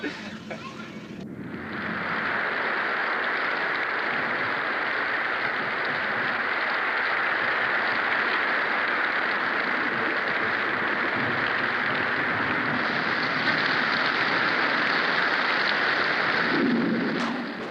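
Steady rain falls throughout, a dense even hiss that starts after a brief quieter moment and holds unbroken until a soft thump near the end, with no talking.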